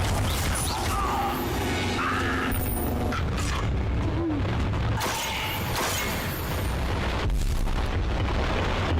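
The Bombarda spell explodes in Hogwarts Legacy, a loud blast folded into continuous, dense rumbling combat noise with bursts and booms throughout.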